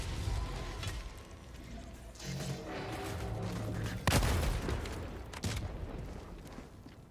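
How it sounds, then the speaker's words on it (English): Gatling barrage and strafing run in the Helldivers 2 video game, a continuous stream of rapid gunfire and impacts with heavier booms and crashing bursts near the middle and end, dense and loud throughout without talk. "The strafing run, and then that Gatling barrage destroying even more civilians."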